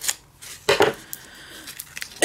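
Scissors snipping through folded crepe paper for a paper rosette, a few short crisp cuts in separate bursts, close and fairly loud, with no talking.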